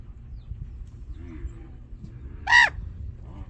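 A pet raven gives a single short, harsh call close by, standing out over a low background hum.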